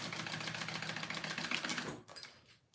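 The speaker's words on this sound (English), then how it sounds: "I like to sew from the bottom up because I feel like when you sew it from the top down, they tend to shift." A sewing machine bastes down the card slots of a handmade wallet, stitching steadily and loud for about two seconds before stopping, leaving a quieter tail.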